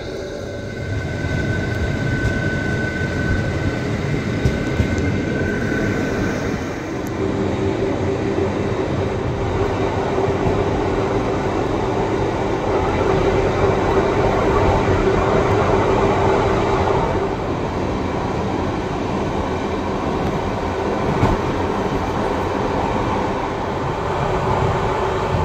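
Steady rumble and rattle of a passenger train riding the rails on a cross-border run between Oradea and Püspökladány, a continuous loud interior roar with a faint tonal whine partway through, no talk.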